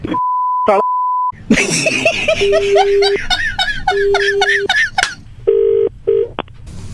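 Telephone dialing tones: a long steady dial tone, then a run of short keypad beeps and tones in quick succession, with faint giggling and background noise behind them.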